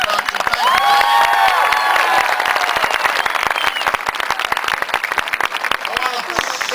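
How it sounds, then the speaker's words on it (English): A crowd at a community gathering at an apple orchard in Londonderry, New Hampshire, breaks into loud sustained applause with cheering and whistles, filling the space for several seconds as the clapping gradually thins. "please give Jane Lang a big round of applause for the great introduction"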